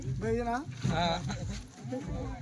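Goats bleat at a livestock market, a few wavering calls at moderate distance mixed with steady crowd noise and someone talking over them.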